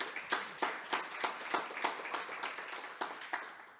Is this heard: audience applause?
yes